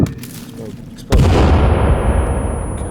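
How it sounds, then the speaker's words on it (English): A grenade explodes in the video game Sons Of The Forest. A sudden heavy boom cuts in after a moment of quieter sound, then rolls on as a loud, dense rumble that slowly fades. "I'm just throwing another grenade."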